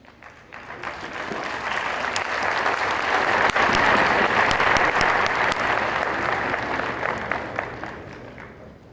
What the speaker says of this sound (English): welcome him on stage with big applause.